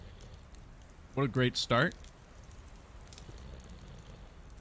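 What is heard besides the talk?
rain falling in the video game Card Survival Tropical Island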